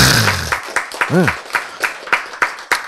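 Rhythmic clapping from an audience at a health lecture, sharp evenly spaced claps about twice a second, with a brief voice at the start.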